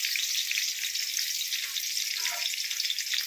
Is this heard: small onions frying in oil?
yes